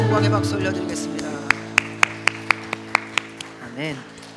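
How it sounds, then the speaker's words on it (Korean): A church congregation claps during a Sunday worship service, about a dozen sharp, evenly spaced claps in a steady rhythm following sung music, ending as a voice speaks. "우리 주님께 감사와 영광의 박수 올려드리겠습니다"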